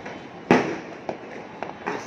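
New Year fireworks in Cebu City: one loud, close bang followed by three softer pops at irregular intervals over an open night backdrop.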